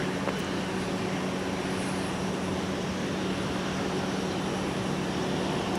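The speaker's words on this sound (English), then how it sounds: "here goes Delta 162 Heavy off to AMS with the A330" A Delta Airbus A330 takes off at Minneapolis–St. Paul airport, a steady broad jet roar holding at an even level throughout, heard from a distance.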